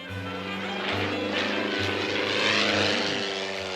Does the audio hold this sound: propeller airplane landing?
yes